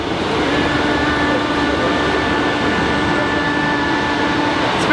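A Sprinter diesel passenger train near Newport gives a steady, loud rumbling drone with a faint whine, heard close and continuous, like riding aboard or standing beside it.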